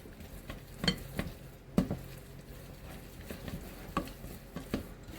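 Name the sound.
mixing no-bake cookie ingredients together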